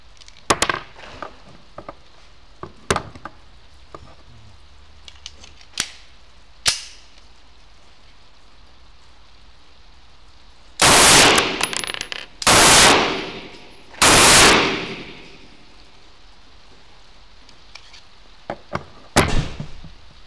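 Gunfire from old ammunition, the first magazine fired: a few sharp, loud, close reports in quick clusters, separated by quieter clicks and handling noises.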